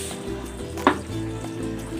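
Pork asado in sauce cooks in a pan with a steady, close sizzle and bubbling, broken once by a brief clink.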